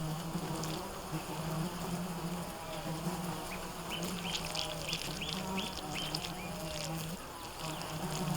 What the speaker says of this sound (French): Les insectes viennent d'abord explorer les replis de sa peau et de sa chair.